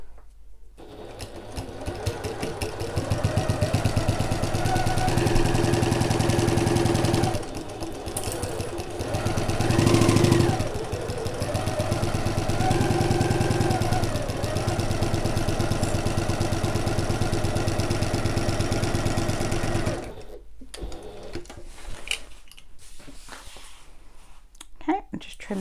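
A flatbed sewing machine stitches a seam on a bag in long, loud, steady runs of rapid mechanical whirring and clatter, with a short pause and speed change partway, then stopping near the end with softer handling noise.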